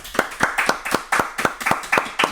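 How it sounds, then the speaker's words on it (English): Steady hand clapping with about ten sharp claps in a regular rhythm, close and moderately loud, with no talking over it. "I got a lot of applause that time"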